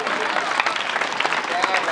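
Audience at a Hindi poetry recital (kavi sammelan) claps steadily and densely, a continuous burst of applause with some voices mixed in.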